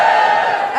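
A live audience cheers and roars at a Welsh election special comedy show, a brief, loud burst of massed voices with no break.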